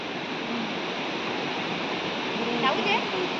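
Furli Jharan waterfall in Kalahandi, where it meets a river, roars as a loud, continuous rush of falling water, with a brief faint voice-like sound near the end.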